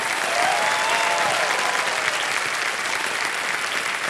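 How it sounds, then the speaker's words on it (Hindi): Studio audience applause on a televised Hindi quiz show, a dense steady clatter of many hands clapping, loud and sustained throughout with no pause. "तालियां बज जाए आनंद राजू के लिए।"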